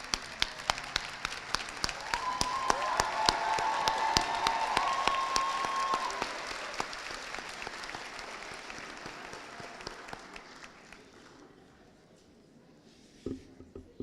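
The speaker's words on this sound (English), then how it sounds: "show them your gratitude with a well-deserved round of applause" Audience applause at a nursing school pinning ceremony, a dense crowd clapping loudly for several seconds, then thinning into scattered claps and fading out near the end.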